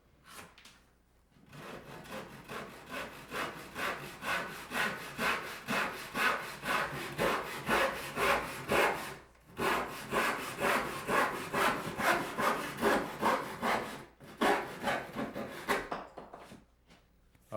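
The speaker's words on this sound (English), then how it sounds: "now the apron receives a 15-degree angled cut on each end" A handsaw cuts a 15-degree angle on the end of a wooden window apron trim piece in a Vermont farmhouse, with steady rhythmic back-and-forth strokes, close and loud, pausing twice briefly before resuming.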